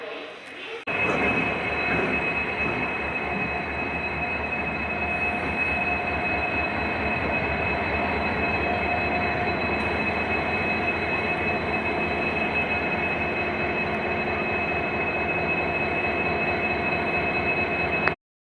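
A passenger train runs across Pamban Bridge from Rameswaram toward Mandapam, a steady loud rumble of wheels on rails with a sustained high squeal, continuous and close for the whole stretch.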